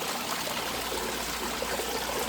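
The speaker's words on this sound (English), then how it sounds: "We've got good water coming down through here." Water flowing and splashing over rocks in a garden water feature, a steady close hiss of running water with no pause and no talk.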